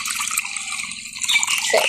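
Water is poured into a cooking pot holding pulses for steaming in a village kitchen, a close, steady splashing pour that shifts in tone toward the end.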